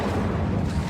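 A fire spell cast in the Hogwarts Legacy game bursts as a dense, steady whoosh of flame filling nearly a second, loud and close with a low, booming body.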